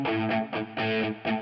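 Sustained distorted guitar chords with a sweeping, swirling phaser effect, played in several loud bursts separated by short pauses.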